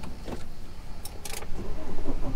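A camper van pulls away on the road from Provence toward Monaco, its low engine rumble heard from inside with a couple of brief mechanical clicks and rattles, moderately loud over a short stretch.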